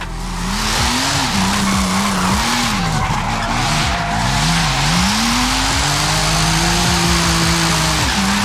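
A loud BMW M4 engine in Forza Horizon 5 revs and drones continuously while tires squeal through sustained drifts, rising and falling with each slide.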